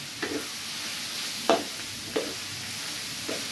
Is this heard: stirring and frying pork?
yes